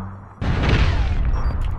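Gunfire in APB Reloaded bursts in suddenly, a loud, dense, crackling stretch of shots with a heavy low boom that holds for over a second before thinning out.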